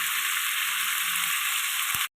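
Tomatoes dropped into plenty of hot oil with lightly fried fish for a fish curry, giving a steady, loud, even sizzle that cuts off abruptly.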